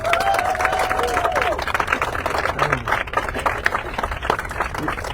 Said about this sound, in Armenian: ծափերով արտահայտեք